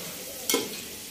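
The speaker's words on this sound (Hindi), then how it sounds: "प्याज ब्राउन कर रही है" Onions browning in a pan give a low, faint sizzle, broken by one quick scrape of a spoon stirring through them near the middle; no one speaks.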